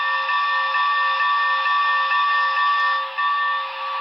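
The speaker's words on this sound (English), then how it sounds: "Here's the whistle." Steam whistle sound from a Broadway Limited HO scale Big Boy #4014 model locomotive, a loud sustained multi-chime tone held steadily for about four seconds with a brief dip near the end, nothing else heard.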